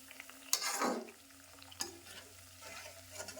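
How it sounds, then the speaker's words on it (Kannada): Sweets fry in hot oil in a home kitchen, giving a soft sizzle as a utensil stirs them, with a few sharp clinks and splashes that come and go against a low steady hum. "ಅಷ್ಟು ಜಲ್ದಿ ಫ್ರೈ ಆಗಿಬಿಡ್ತಾವ್ರಿ ನಾವು ಹಾಕಿದ ತಕ್ಷಣಕ್ಕೆ ಕಲರ್ ಚೇಂಜ್ ಆಗಿಬಿಡ್ತಾವ ನೋಡ್ರಿ"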